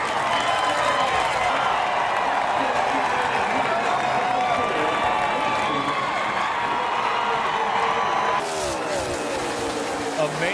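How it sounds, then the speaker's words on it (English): A big crowd of about 60,000 at Talladega Superspeedway roars and cheers for Jeff Gordon at a NASCAR race, the sound blending with the steady roar of 43 race car engines. It stays loud and continuous, with a sharp shift near the end. "Big cheer from the crowd."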